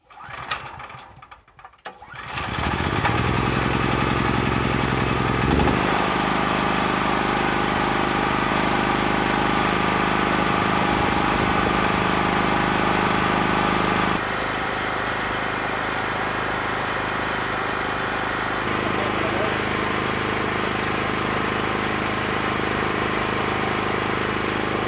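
A small generator engine cranks, catches and settles into a loud, steady running drone with a slight shift in pitch partway through, close by and without speech.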